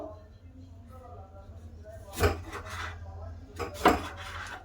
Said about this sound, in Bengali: এবার আমি টমেটোগুলো সব কেটে নেবো